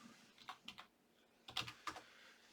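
A computer keyboard is tapped in short bursts of quiet, close keystrokes, a few clicks, a pause, then a few more, typing a search.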